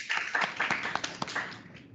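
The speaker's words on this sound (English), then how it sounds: "we can maybe have another round of applause for answering the questions" Seminar audience applauding after a question session, a short burst of scattered, fairly quiet hand claps with a few sharper individual claps standing out.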